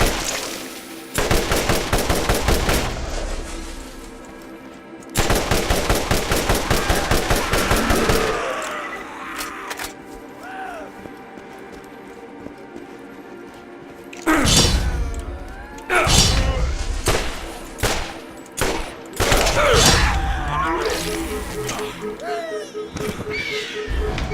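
Bursts of rapid automatic gunfire in the video game Zombie Island, two long loud volleys then scattered shorter shots, with someone talking in between and over the action.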